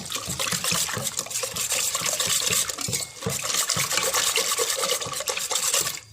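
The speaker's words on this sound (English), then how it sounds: "It's all about beating the mixture well." A spoon or whisk steadily beats a thin, watery khandvi batter in a bowl, making a continuous wet, rapid splashing and scraping that stays close and fairly loud throughout.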